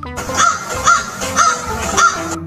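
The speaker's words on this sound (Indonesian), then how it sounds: "Burung gagak." Crow cawing four times in a steady, evenly spaced rhythm, loud and close, with nothing else heard.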